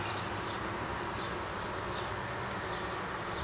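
A steady, dense buzzing of many honeybees fills the clip, continuous and close, with no voices.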